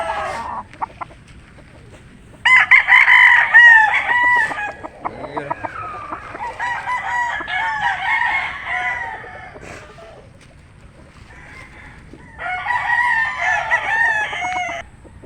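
An imported McLean gamefowl rooster crows loudly in three separate bursts, with softer clucking and rustling between the crows, heard close up.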